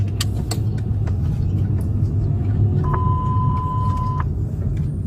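A suspect's car keeps rolling, heard as a steady low vehicle rumble throughout, with scattered clicks and a sustained electronic tone partway through.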